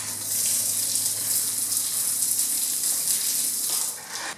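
A garden hose pours water into a septic system's pump tank, making a steady, loud hissing gush that continues for several seconds and then cuts off, with no voices.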